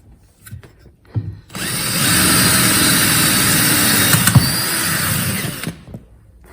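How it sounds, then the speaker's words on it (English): A power drill bores a rivet hole through a boot cover on a GBS Zero kit car, running loud and steady for about four seconds, with brief handling knocks before and after. "hold that up there, drill a hole through and put a rivet"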